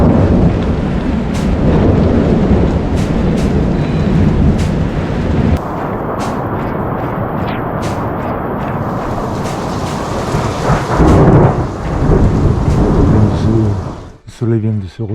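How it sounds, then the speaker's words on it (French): A mountain thunderstorm roars with heavy, steady rain and repeated sharp thunder cracks and rumbles, loud and close throughout, ending in a few faint crackling claps as the downpour eases. "Donc, ça claque. Il y a des beaux éclairs."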